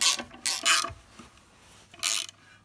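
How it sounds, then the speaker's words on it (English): Screws are tightened on a Harbor Freight 12-inch benchtop disc sander during reassembly, giving three short bursts of ratcheting, grinding driver noise with quiet gaps between them, close to the microphone and without talk. "Now we can tighten the screws."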